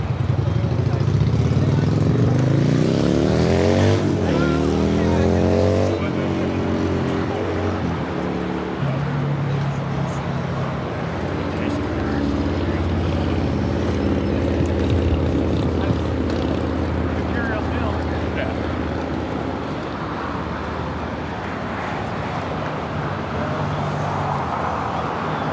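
A Qatar Airways airliner in oneworld livery taxis at Los Angeles airport. Its engines give a loud, steady roar with a rising whine, and someone talks over it throughout.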